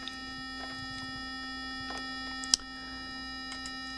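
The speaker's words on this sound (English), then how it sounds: "Rectangular wave. Not so nice." A rectangular-wave test tone plays through a surface-driver speaker, a faint, steady buzzy pitch holding unchanged throughout, with a low hum and a few tiny ticks but no voices.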